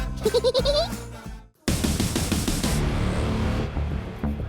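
Goats bleat in a farm pen, several wavering, close calls in quick succession at the start, followed by a busy, noisy stretch of animal sounds and general clatter.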